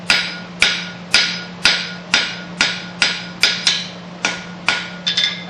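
A blacksmith strikes steel with the corner of a hammer, about eleven sharp, ringing blows at a steady, even rhythm, close and loud over a low hum.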